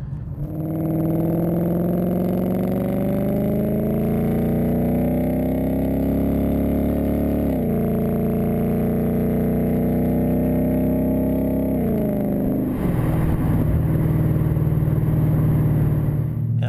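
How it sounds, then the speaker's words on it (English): A 2015-2017 Ford Mustang GT with a MagnaFlow Competition Series quad-tip cat-back exhaust drives on the road, its low, deep engine drone loud and steady, rising through gears with brief shift dips, no talking. "Getting on the road with the quad tip, it sounds pretty much the same as the competition catback system with the single tip sounds"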